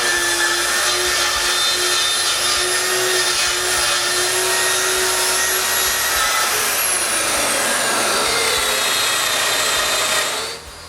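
A power saw cuts wooden shelves with a loud, steady, whining drone; its pitch sags briefly partway through, then it runs on before cutting off abruptly at the end.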